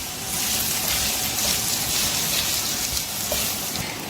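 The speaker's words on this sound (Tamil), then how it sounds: "இதையும் நல்லா வதக்கணும்." Bell pepper sautés in hot oil in a pan, a steady close sizzle and hiss that runs evenly throughout without voices.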